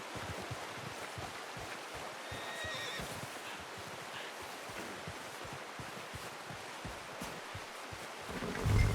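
A horse in Red Dead Redemption 2 whinnies once near the end, over steady rustling, hoof clatter and outdoor ambience with no talk.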